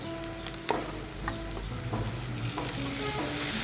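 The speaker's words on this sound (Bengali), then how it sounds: "এখন আমি এর মধ্যে দিয়ে দিব রসুন বাটা 2 টেবিল চামচ পরিমাণ।" Two tablespoons of garlic paste sizzle in a pan while being stirred for a quick small kanchi fish dish, with steady close frying hiss broken by scraping strokes and a sharp clink early on.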